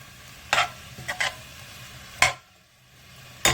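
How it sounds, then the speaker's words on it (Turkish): Meat, onions and capers sauté in a hot pot, a few short scraping bursts against a low steady sizzle, with quiet pauses between strokes. "Etimizi, soğanımızı, e, kapyozlarımızı güzelce kavuracağız."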